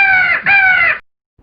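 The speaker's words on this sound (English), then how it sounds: "What sound does a crow make? A crow caws." A crow cawing, two loud, close, harsh calls in quick succession that then cut to near silence.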